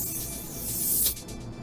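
A spray gun hisses steadily as paint goes onto a 2010-2013 Chevy Camaro front bumper cover, with a brief sharper burst of spray partway through.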